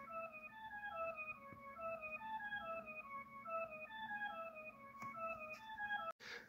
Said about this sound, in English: First off, I started with this bell and just made a repetitive pattern.